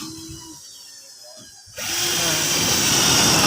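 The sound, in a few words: power screw gun fastening corrugated zinc roofing sheet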